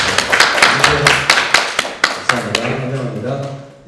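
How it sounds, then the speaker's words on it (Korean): Welcoming applause for a new student at a church youth Sunday service, a few sharp, uneven claps from a small group, close and separate rather than a full ovation, with a voice speaking over the last part. "우리 환영의 박수 부탁드리겠습니다."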